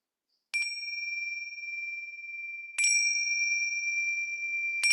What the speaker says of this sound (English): We'll begin and end with the bells